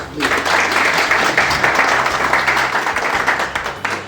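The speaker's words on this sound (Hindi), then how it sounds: "तो आप इनके लिए बहुत बहुत तालियां।" Sustained applause rolls through a community society gathering, steady and fairly loud, with a low electrical hum underneath and brief voices mixed into the clapping.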